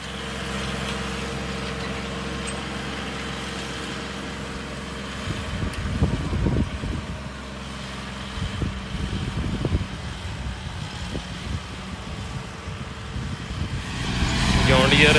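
A John Deere 5410 tractor works a field pulling a cultivator and a 24-disc harrow, its engine holding a steady mid-pitched drone while someone talks over it, with a few louder surges partway through.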